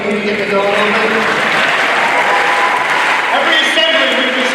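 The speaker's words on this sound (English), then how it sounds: "Can you get me going a little slow clap maybe?" A large graduation crowd at Old Bridge High School claps together, a dense, loud and steady wash of applause that fills the space, with voices mixed into the noise.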